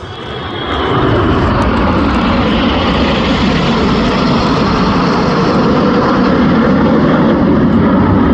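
A loud, continuous roar of Red Arrows display jets at an air festival fills the air, a broad rushing engine noise that swells in and holds steady as they pass overhead.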